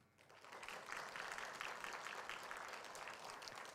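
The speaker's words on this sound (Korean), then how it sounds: "박수해 주시면 감사하겠습니다" A church congregation applauds together at a New Year's Eve service, a dense, steady wash of clapping that swells after a soft start and holds for several seconds without any voices.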